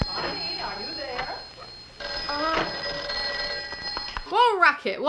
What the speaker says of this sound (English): Why were phones so loud and annoying back then?